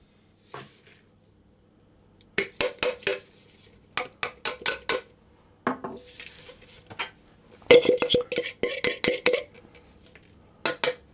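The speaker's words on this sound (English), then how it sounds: "So then I'm going to tip that back into my bowl again" Crumble mixture tipped back into a bowl, a series of close, sharp clattering knocks and scrapes in irregular bursts, with short quiet gaps between.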